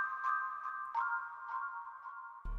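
The unaltered mallet accent sample with a delay effect plays as a run of light struck notes that echo at a steady rhythm and fade. It is quiet and heard alone until a short low thump at the very end.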